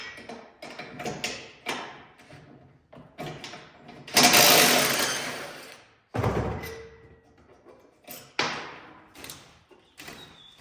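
Small crescent wrench working bolts loose to remove a vehicle seat, giving a series of close metallic clicks, ratcheting turns and thuds with brief scraping bursts, no talking.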